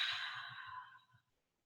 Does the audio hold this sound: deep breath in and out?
yes